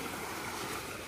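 Sea waves washing onto the shore at Patuco on Sarangani Island, a steady broadband wash of surf with wind rumble across the microphone, no talk.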